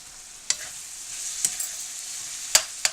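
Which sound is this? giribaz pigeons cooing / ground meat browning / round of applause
ground meat browning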